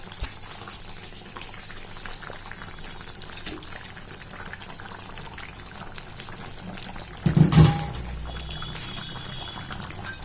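Pieces of rohu fish dropped into a simmering curry with aubergine, a brief splash and gush standing out over a steady background hiss of the bubbling pot.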